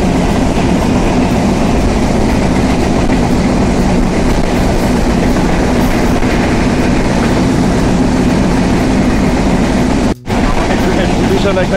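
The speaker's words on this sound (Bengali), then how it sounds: "মৌচাক স্টেশন থ্রুপাস যাচ্ছে আন্তনগর পদ্মা এক্সপ্রেস" The Padma Express intercity train runs through Mouchak station, a loud, continuous roar of wheels and rattling carriages with a rhythmic clatter, broken by one sharp dropout near the end.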